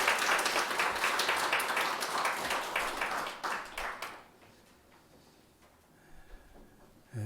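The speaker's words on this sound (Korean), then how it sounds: "우리 하나님께 감사와 영광의 박수 올려드리겠습니다." A church congregation at a Sunday worship service claps loudly and steadily for about four seconds, then the applause breaks off into a quiet room with faint rustling and a soft tick or two.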